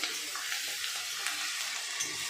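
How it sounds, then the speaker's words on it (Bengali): Onions frying with whole spices and bay leaf in hot oil, a steady dense sizzle with occasional stirring scrapes, close and continuous with no talk. "পেঁয়াজটাকে ভালো করে ভেজে এসছে"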